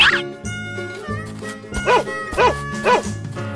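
A dog barks and yips in an animal video game, several short bow-wow calls repeating over game music.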